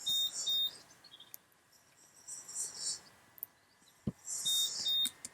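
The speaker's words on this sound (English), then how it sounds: "That's my that's my inverter saying I've run out of juice" A power inverter sounds a low-battery alarm: faint high electronic beeps in short bursts at the start and end, over quiet outdoor background with a single sharp knock.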